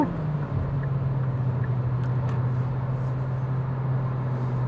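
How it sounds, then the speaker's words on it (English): A Hyundai Elantra's budget four-cylinder engine while driving, a steady droning hum with road noise, constant and moderately loud inside the cabin, no talking. "And I will say that engine sound is not all that pleasant."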